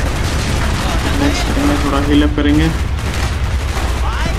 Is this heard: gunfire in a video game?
yes